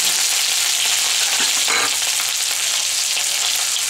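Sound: ginger being added and fried in a kadai

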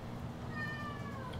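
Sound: pet cat meowing

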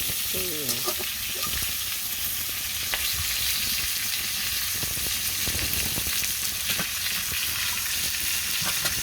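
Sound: fish frying in a pan

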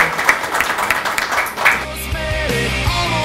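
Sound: applause welcoming new football club player

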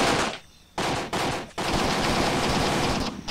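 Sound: gunfire in the video game Graviteam Tactics

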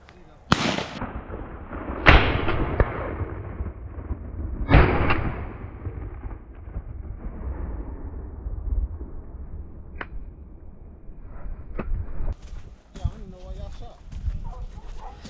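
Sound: shotgun shots fired during a deer hunt

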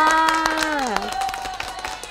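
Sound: clapping for yourself

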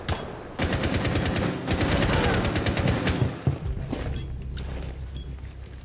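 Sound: gunfire from hip fire in Rainbow Six Siege video game

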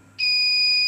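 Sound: alarm sounding from alcohol-detecting engine lock system

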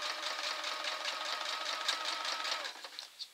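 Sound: sewing machine stitching fabric

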